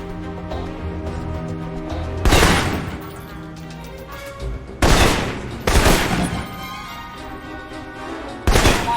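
Assault rifle fire in the video game Alpha Protocol: loud, close bursts of automatic shots in separate volleys with short pauses between them, no voices.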